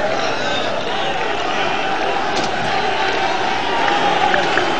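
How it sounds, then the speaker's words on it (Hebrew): Football fans of Bnei Yehuda chant abuse at a player from the stands, a loud, dense crowd roar of massed voices that swells and holds throughout, with shouts rising above it. "לקריאות הגנאי שמופנות אליו על ידי אוהדי בני יהודה"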